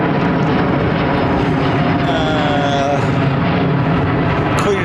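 Virgin Atlantic Airbus A330neo departing overhead from runway 09R at London Heathrow, a steady loud jet roar filling the whole stretch, with people chatting faintly beneath it.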